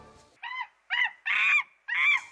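During an animal-sound guessing game, a recorded monkey call sounds as four separate honking, harmonic cries that come evenly spaced one after another, each lasting about a third of a second, clear against near silence.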